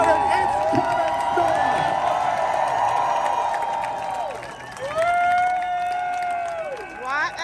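A crowd at Lucas Oil Raceway in Indianapolis cheers and claps for the winner of the Grand Vic Indy 800, a broad roar with a public-address voice ringing over it.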